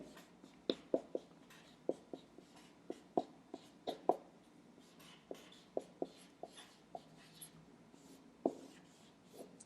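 A marker writes on a board in a steady series of short scratchy strokes and taps, close and fairly quiet, with small pauses between letters and no talking.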